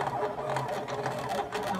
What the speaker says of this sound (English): Making my first cut on my Silhouette Portrait 2.